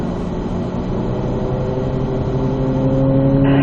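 A Corvette Z06 engine drones from inside the car on a race track, a steady loud hum whose pitch rises slowly as the throttle is rolled on.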